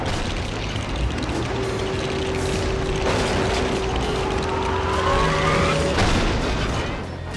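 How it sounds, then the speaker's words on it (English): A car crusher machine in the video game Lego City Undercover grinds and squeals as metal strains under steady mechanical pressure, building in intensity before a sharp thump, with no talk over it. "Car crusher."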